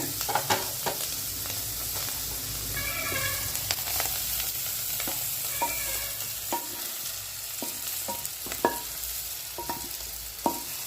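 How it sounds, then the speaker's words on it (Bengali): Cauliflower frying in a pan of oil, a dense steady sizzle punctuated by bright pops and the clack of a spatula turning the pieces, close and without speech. "ফুলকপিটা এমনিতে খুব কঠিন সুন্দর ভাজা হয়ে গেছে"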